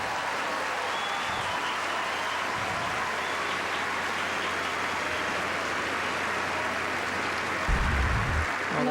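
A crowd at a 2006 New Haven women's tennis quarterfinal applauds steadily, a broad wash of clapping that sits at a distance and swells slightly near the end.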